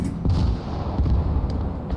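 Muffled booms and thuds of an anti-tank grenade exploding amid battle in the World War II game Gates of Hell Ostfront, a few dull blasts over a constant rumble.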